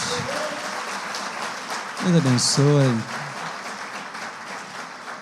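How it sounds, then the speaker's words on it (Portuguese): A church congregation at a Sunday celebration service applauds its visitors with steady clapping throughout, while someone speaks briefly in the middle over it. "Você pode aplaudir Jesus pela vida dos nossos visitantes?"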